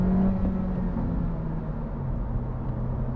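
Engine of a 2022 Honda Civic Si heard from inside the car, a steady loud low drone with a slight rise and hold in pitch, consistent with revving through gear shifts and some rev hang, with no talking.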